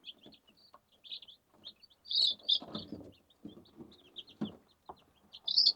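Newly hatched baby chicks peep in a brooder, high, thin chirps coming in quick irregular bursts, fairly faint and close, with soft rustling and scratching beneath them.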